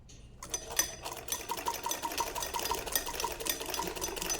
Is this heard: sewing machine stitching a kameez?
yes